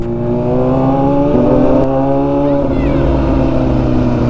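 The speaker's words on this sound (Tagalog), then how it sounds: "di lahat naman na-appreciate yung tunog ng motor natin" An inline-four sport motorcycle engine revs loudly up close, its pitch rising then easing back, with a voice speaking over the roar.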